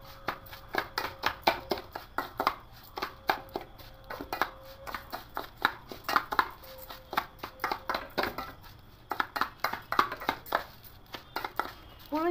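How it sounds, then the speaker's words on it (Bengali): Washed, dried rice is worked with ghee by hand for payesh, giving a rapid series of soft crunchy, rustling squeezes in bursts with short pauses, close and fairly quiet. "ঘি দিয়ে খুব ভালো করে চালটাকে মাখিয়ে নেব।"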